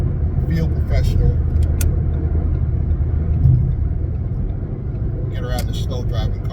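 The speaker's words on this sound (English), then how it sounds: "Get around the slow driving car." Car interior road noise while driving, a steady low rumble of engine and tires with a brief swell as traffic is passed; a person speaks over it.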